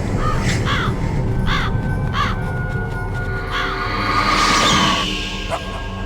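Ravens cawing in the video game Metal Gear Solid, repeated harsh caws at a steady pace over a dense, loud ambient game background.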